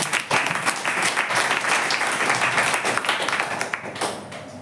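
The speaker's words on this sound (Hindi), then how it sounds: "जोर से यीशु को ताली मारें" A church congregation claps loudly and steadily during a worship service, a dense burst of hand claps that runs the whole time with no talking over it.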